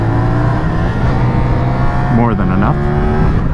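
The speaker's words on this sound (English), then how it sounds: "Downshifting, blipping it down, not bad." A CFMOTO 450SS twin-cylinder motorcycle engine being ridden with throttle blips on downshifts, giving quick rising and falling revs over a steady road drone, with a rider speaking briefly over it.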